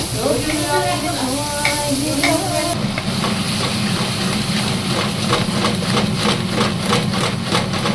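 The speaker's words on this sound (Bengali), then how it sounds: "আমাদের পাবদা মাছ ভাজা মিশন কমপ্লিট হয়নি পাবদা মাছটা ভাজা হবে" Pabda fish frying in a wok makes a loud, dense sizzle that fills most of the clip, after a few seconds of tonal, voice-like sound.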